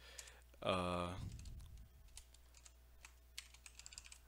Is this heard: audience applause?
no